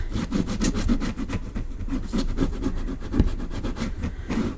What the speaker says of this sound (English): I'm going to burnish that down